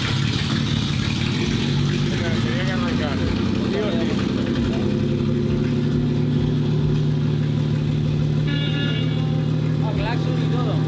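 An old Mercedes 220S engine, restarted after long abandonment, runs steadily with a low, throbbing rumble, while voices talk over it.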